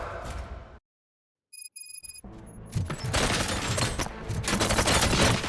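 Gunfire erupts in the Robocop: Rogue City video game, a dense fusillade of rapid shots and booms building after a short silence and a few electronic tones, loud and continuous to the end.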